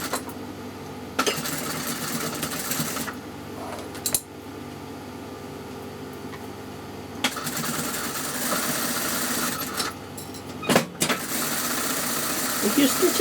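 A sewing machine stitches pre-prepared piping onto fabric, its motor whirring in long continuous runs broken by brief stops, close and fairly loud, with a few clunks near the end.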